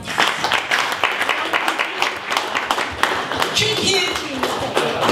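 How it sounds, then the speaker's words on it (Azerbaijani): An audience applauds at an award ceremony honoring a World Food Prize laureate, steady close clapping with sharp individual claps running under a speaking voice throughout. "komandanı alqışlayaq"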